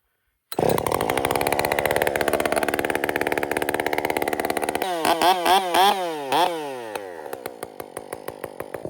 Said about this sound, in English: This saw hasn't been run in some time, so we'll go ahead and get it warmed up.